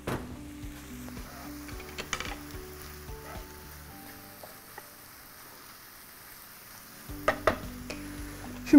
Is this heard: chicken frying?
yes